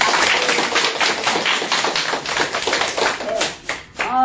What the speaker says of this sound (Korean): 먼저 박수 한번 주세요